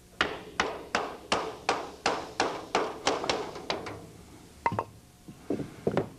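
A hammer taps repeatedly on a wood block held against an aluminum tab during Vans RV-6 empennage construction, about a dozen firm, evenly spaced knocks, then a pause and a few lighter, uneven taps.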